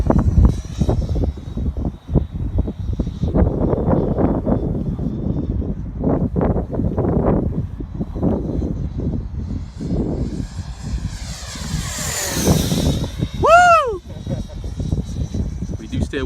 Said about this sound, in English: See how fast that F-5 is.